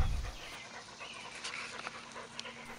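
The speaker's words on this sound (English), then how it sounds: "Hear the harsher breathing." An Akita suffering from bloat breathing harshly, with rapid, rasping panting breaths up close, a few louder catches standing out over a quiet background.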